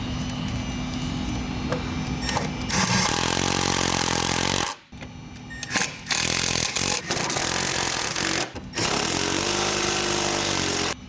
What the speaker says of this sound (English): Now using a 30 Torx, we are going to use our remainder 8 bolts to fasten the plastics back down.